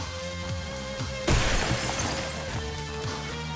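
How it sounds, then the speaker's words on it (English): Glass on a customized car smashing in one sudden loud crash, followed by a spray of tinkling shards and lingering debris over a low background hum. "Behold the sound of breaking glass."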